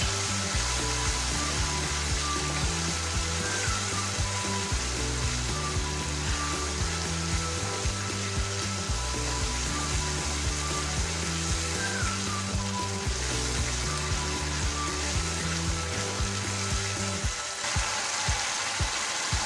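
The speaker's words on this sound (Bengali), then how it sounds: "এবার আমি সব মশলাকে ভালো করে কষিয়ে নেব।" Ground turmeric, chili, cumin and coriander fry in oil, giving a continuous dense sizzle with a steady droning hum underneath, close and unbroken for the whole stretch, with no speech.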